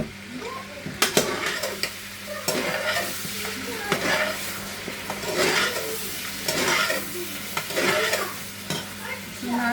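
Ginger paste frying in a pan while being stirred, with a constant sizzle broken by repeated metallic scrapes and taps of a spoon against the pan in an irregular rhythm.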